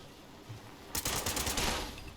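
A burst of gunfire in Fallout 76, starting abruptly after a quiet moment and continuing as a loud, rapid crackle of shots for over a second.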